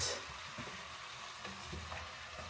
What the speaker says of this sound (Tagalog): you stir